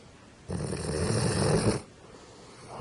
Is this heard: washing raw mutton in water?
no